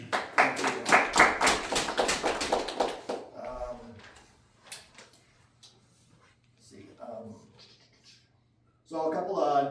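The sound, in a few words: applause from the audience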